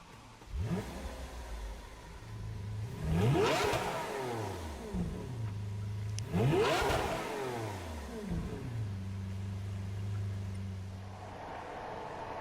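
A Lamborghini Aventador Superveloce V12 in Gran Turismo Sport at Monza revs hard through two big acceleration sweeps, each rising to a high wail before dropping through gear shifts, then settling into a steadier drone.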